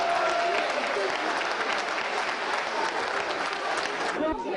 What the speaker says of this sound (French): je voudrais qu'on les applaudisse très fort